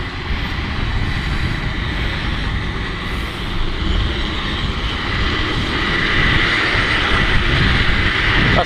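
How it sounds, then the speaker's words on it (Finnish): A San Francisco metro train runs along its rails nearby, a loud continuous low rumble and roar that swells slightly toward the end, with no talking over it. "Tässä nää kuuluu metroraiteet."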